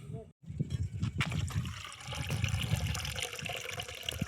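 Water poured out by hand outdoors near a spot where pigeons gather, a steady splashing trickle that runs under muffled nearby voices and small knocks.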